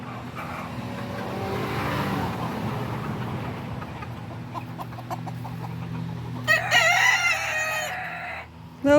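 Roosters and chickens in a backyard coop, clucking and a crowing call amid steady background noise, with a louder, closer rooster crow near the end.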